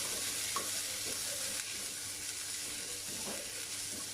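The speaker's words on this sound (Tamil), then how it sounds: "ஸோ இதையுமே எண்ணெயோட ஃப்ரை பண்ணிக்கலாம்." Onion, ginger and garlic fry in oil for a Kerala-style beef fry, giving a steady soft sizzle with a few faint stirring scrapes, quiet and continuous throughout.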